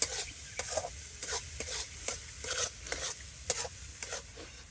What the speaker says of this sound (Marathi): मसाला असं छान परतून घ्यायचा पूर्ण त्याचं तेल सुटेपर्यंत